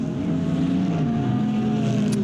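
GT3 race cars, a Lexus trailing a Ford Mustang, roar past at Bahrain, a dense, loud engine drone with shifting pitch held steady through the brief moment.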